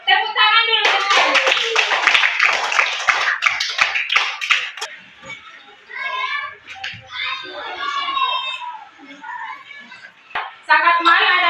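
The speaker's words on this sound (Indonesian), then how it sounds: "Tepuk tangan dulu teman" Schoolchildren in an Islamic religious studies class clap together in a quick, loud burst of close claps. Children's voices talk and chant over the clapping before and after it.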